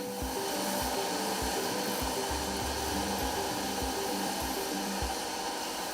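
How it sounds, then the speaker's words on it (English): Sanding machines smoothing carved flip-flop rubber sculptures in a Kenyan workshop, a loud steady whine and hum with rhythmic low thumps, continuous and close, no talk. "use these sanding machines to smoothen the sculptures"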